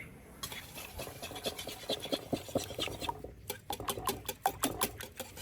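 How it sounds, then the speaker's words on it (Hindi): Three eggs being whisked quickly in a bowl, giving a rapid scratchy rhythmic tapping that keeps going steadily and gets sharper toward the end. "अब इन अंडों को अच्छी तरह से फेंट देंगे।"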